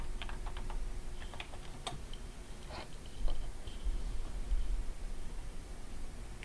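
A password is typed on a computer keyboard as a few close, scattered key clicks, with a brief pause between them, over a steady background hiss.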